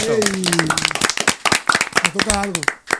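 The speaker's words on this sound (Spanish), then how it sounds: "Yo quiero que ustedes den un aplauso" Audience clapping on a Spanish-language comedy show: sharp, fairly close handclaps in an irregular burst, with a voice speaking over them and briefly cheering.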